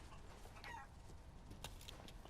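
Chickens cluck softly in the video game Resident Evil Village, with short, faint clucks over a dense low background hum.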